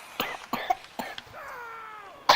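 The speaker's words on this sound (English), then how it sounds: "Cover your cough, please." A series of short, sharp coughs comes in quick bursts, followed by a brief raspy rising vocal sound and one more abrupt cough at the end.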